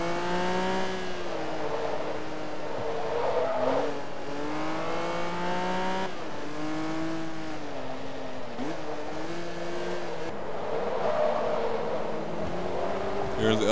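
Race cars lapping Mugello in Forza 2, engines wailing and shifting through gears in a continuous rising and falling drone, with several cars audible close together throughout.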